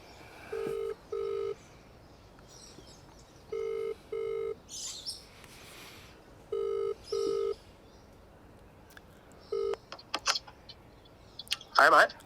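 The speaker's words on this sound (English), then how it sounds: "let's call Bill and see what he says." A phone call rings out as a thin line tone plays a double-burst ring pattern three times, followed by one more short burst and a few faint clicks and rustles.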